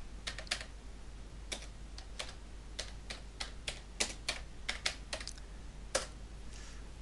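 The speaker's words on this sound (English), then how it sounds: "in cell A1 you type in today's date," Fingers type on a computer keyboard while entering a date into a spreadsheet cell. The keystrokes are close and crisp, arriving in irregular bursts and single taps for seven seconds, with no talking.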